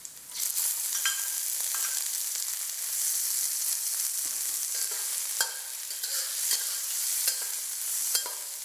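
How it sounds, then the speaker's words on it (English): Shrimps fry in a pan with garlic, giving a steady close sizzle with occasional sharp clicks and utensil taps as they are moved around, no one speaking. "Then add in the shrimps."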